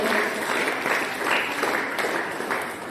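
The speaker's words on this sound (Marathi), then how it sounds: "सर्वांनी टाळ्या वाजवल्या." A crowd at a karate belt distribution ceremony claps steadily in a burst of applause, dense and close, continuing through the whole moment.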